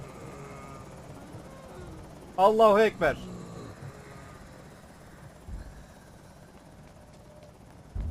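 A steady helicopter rotor drone from the video game Project Zomboid fills the background, with someone briefly shouting over it partway through.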